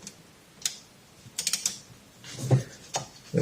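Sparse mechanical clicks and ratcheting snaps as a mole grip is tightened onto a motorcycle fork tube from a Motorhispania RX50, close and fairly quiet with gaps between clusters.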